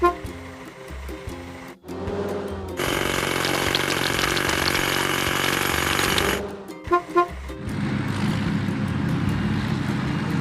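Video-game hydraulic hammer pounding rocks on a construction vehicle: a loud, steady rapid hammering burst of about four seconds, set between shorter cartoonish effects and a lower rumbling tail, with no voices.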